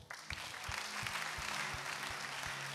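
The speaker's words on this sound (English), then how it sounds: "You better clap." A church congregation claps during a sermon on tithing, a moderate, fairly even stretch of many hands applauding over a steady rhythmic low thump in the background.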